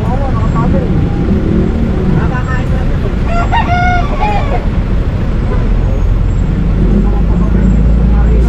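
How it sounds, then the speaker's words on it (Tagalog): A chicken calls out in a short, sharp burst from a roadside street cooking spot during a Manila MMDA clearing operation, nearly buried by a constant loud roar of passing traffic. "Ayan, manok na pula."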